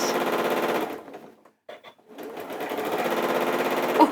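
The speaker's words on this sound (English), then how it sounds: "So I'm just going to sew over where I've sewn." A domestic sewing machine runs at full speed stitching over an existing seam on a dress or top, a fast rattling buzz that stops briefly in the middle before starting again, close and steady.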